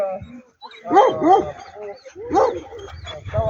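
Dogs at a dog club Halloween event, with several short barks and yips close by and a person talking alongside them.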